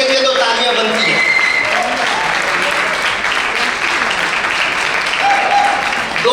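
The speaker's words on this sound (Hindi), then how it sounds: "तालियां बनती हैं" Loud, sustained audience applause fills a hall at an Indus Hospital fundraising event, dense clapping holding steady for several seconds without a break.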